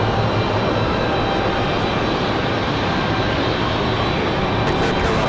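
An Aeromexico airliner departing for Mexico City sends out a loud, dense jet roar that holds steady and close for the whole moment, unbroken by speech.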